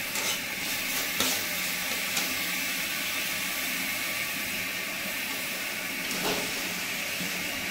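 Fried potatoes tipped into cooked-down spice masala of cumin and coriander in hot oil, setting off a loud, steady close sizzle with a brief sharper crackle near the start and another later.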